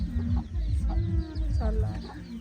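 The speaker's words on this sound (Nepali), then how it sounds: "यता चाहिँ कुखुराको चल्ला रहेछ" Chicken chicks at an urban farm cheep in short, high peeps, mixed with low clucking and voices nearby.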